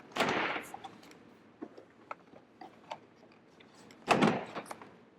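Plastic retaining clips pop loose as a Toyota Tacoma door card is pulled straight back from the A-pillar side, giving a sharp crackling snap, scattered small ticks and rattles, then a second loud pop and crunch near the end.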